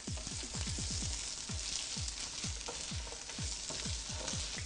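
Chipotle peppers fry in a hot pan with a steady close sizzle, broken by a run of short, sharp popping bursts that come in quick clusters and then spread out, with no voices.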